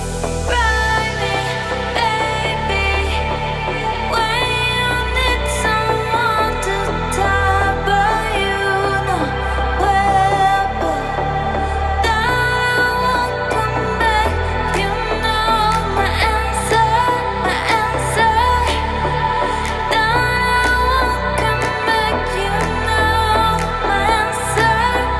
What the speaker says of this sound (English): Today I'm gonna show you how you're gonna make summer trance which sounds like this